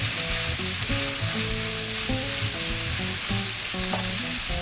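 Spicy sausage, broccoli and pasta frying together in a pan, with a steady, close sizzle that runs unbroken throughout and no talk.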